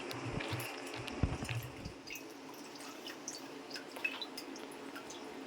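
Clean water rinsed through chhena curdled with vinegar, dripping and splashing softly in a kitchen, with faint irregular drips and small squishy sounds over a quiet hiss.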